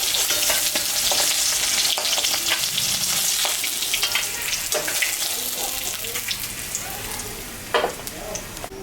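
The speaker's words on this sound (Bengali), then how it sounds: "মাছ ভাজা তেলের উপরে শুকনো লঙ্কা, জিরা আর গোটা গরম মশলা সম্বরা দিলাম" Dried red chillies, cumin and whole garam masala hit hot oil left from frying mrigal fish, giving a loud, close, continuous hissing sizzle with scattered pops and stirring clatter.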